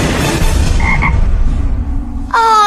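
Cartoon frog croaking in a loud, close, repeated series of raspy calls over a dense ambient bed, with a brief tonal sound at the end and no talk.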